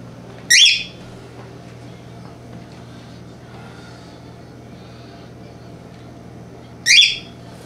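A small child imitates a Big Bird call at a Christmas gathering, giving two short, high, squeaky cries about six seconds apart over a steady low hum.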